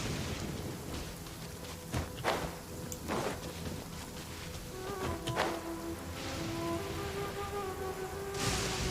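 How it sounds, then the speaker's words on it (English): A heavy rain downpour falls steadily in a video game, a dense hissing wash with occasional sharper spatters and a faint tonal game sound rising near the end, with no talk. "Quite a downpour. Nothing will get done until it clears."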